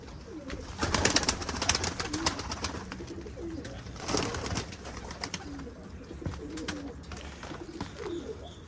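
Pigeons coo softly nearby in low, repeated murmurs, punctuated by bursts of wing flapping as several birds take off.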